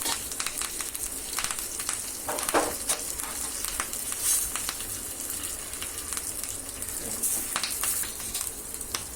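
Ginger and curry leaves sizzling in hot oil for a foxtail millet pongal tempering, a continuous crackling hiss with scattered sharp pops throughout.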